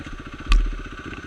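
A motorcycle is pushed up beside a waterfall with its engine running in a steady, close putter, broken midway by a single sharp clattering knock.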